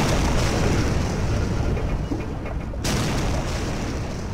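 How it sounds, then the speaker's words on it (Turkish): A large airplane blowing up in the survival video game Stranded Deep, heard as a loud, sustained rumbling roar with dense low-end noise that carries on steadily, briefly cut in the high end before continuing. "Koca uçak patladı."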